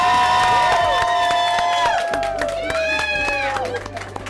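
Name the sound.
audience applause and cheering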